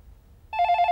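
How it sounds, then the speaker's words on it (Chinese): A telephone bell rings after a half second of quiet, repeating in steady rapid bursts, close and loud, with no talk over it. "小东的电话。"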